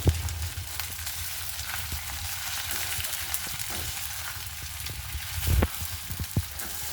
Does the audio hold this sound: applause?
no